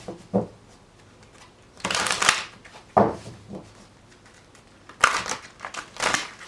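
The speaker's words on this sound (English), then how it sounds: "Alright, 2 more shuffles." Several bursts of tarot cards being riffled and shuffled, each a quick crisp flurry of flicking, separated by short pauses.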